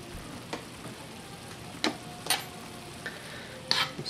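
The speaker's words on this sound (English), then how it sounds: "I'm going to stir them in." Peppers stirred into sizzling onions in a frying pan for a beef tongue stir fry: a soft, steady sizzle with a few short scraping stirs, near and fairly quiet, no talking.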